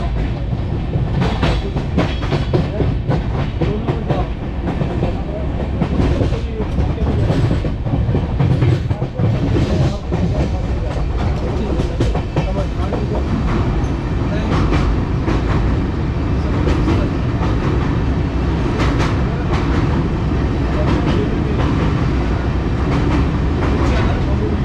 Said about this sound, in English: Now listen to the Indian train track sounds.